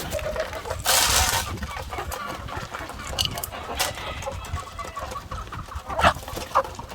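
Chickens cluck and murmur in a noisy farmyard, with a few sharper calls and brief rustling bursts nearby.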